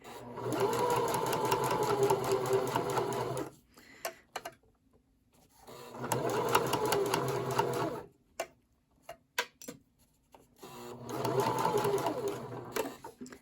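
A sewing machine stitches a bag gusset in three steady runs of rapid mechanical whirring, separated by pauses with small clicks and handling taps, close and clear.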